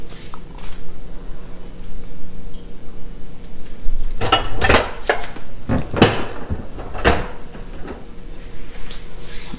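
Dishes are loaded into a dishwasher: several loud clatters and clinks of plates and cutlery bunched together in the middle, with quieter shuffling before and after.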